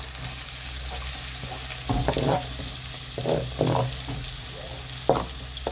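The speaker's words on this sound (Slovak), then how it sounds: "ideme si pražiť cibuľku. Takže cibuľu si ideme dať pekne do takejto hlbokej panvice." Chopped onion sizzles steadily in melted lard in a deep pan, with intermittent scraping and stirring from a wooden spoon over the continuous frying hiss.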